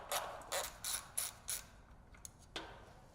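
A ratchet clicks in several short, close bursts while removing the battery bracket fastener on a 2023 Indian Sport Chief motorcycle, followed by a brief pause and one final burst of clicks.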